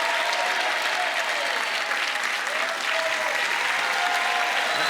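Loud, sustained applause from a theatre audience greeting a comedy act at a Pigalle humour show, a thick continuous roar of clapping with faint voices underneath.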